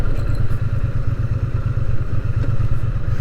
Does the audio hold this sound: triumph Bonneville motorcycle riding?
yes